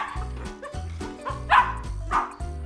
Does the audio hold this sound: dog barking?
yes